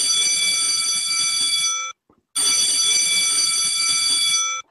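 Loud, harsh electronic alarm-clock buzz sounding in two long bursts split by a short silent gap, close and piercing with no voices.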